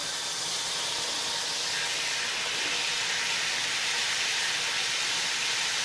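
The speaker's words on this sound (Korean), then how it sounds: "뜨거운 물 틀어볼게요." Hot water runs from a shower head with a built-in water-powered LED temperature display, a loud, continuous broadband hiss of spray that stays steady and close throughout.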